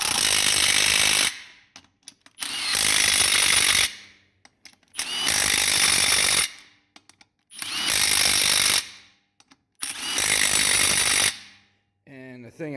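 A Milwaukee M18 Fuel 3/8 inch compact impact wrench fitted with a 100-pound torque stick fires in five loud, close bursts of rapid hammering, each over a second long, with short quiet gaps between.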